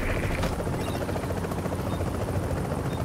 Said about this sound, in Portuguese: O helicóptero fica parado ali um tempo e todo mundo pode ir depositar enquanto as pessoas ao redor tentam roubar.